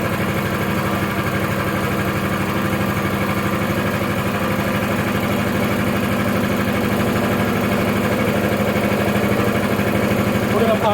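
EFcut C30 engine idling steadily while warming up just after its first start, a loud, even, throbbing drone held without pause throughout.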